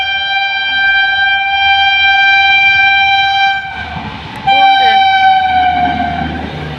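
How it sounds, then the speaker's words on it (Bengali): A train passes a level crossing at night in fog, its horn sounding long and loud with sustained tones, then rumbling wheels and clatter as it goes by close up, with voices faintly underneath. "ট্রেন যে আসতেছে, ট্রেনের কোনো লাইটই নাই"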